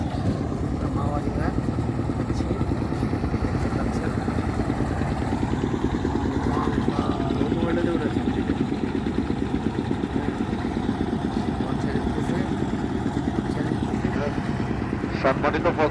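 A tourist boat engine chugging steadily as the boat departs toward the white-stone area of Bholaganj, Sylhet: loud, close, continuous mid-pitched throbbing with people talking over it.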